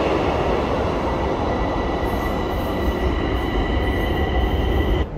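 A metro train running through a Bucharest subway station, a loud continuous rumble with squealing wheels and steady high-pitched tones filling the platform for the whole stretch.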